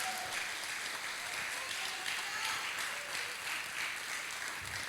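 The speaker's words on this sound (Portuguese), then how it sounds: "E eu quero que você dê um aplauso ao Senhor." Applause from a church congregation during a service, a steady wash of clapping lasting throughout, moderately loud and slightly distant, with faint voices mixed in.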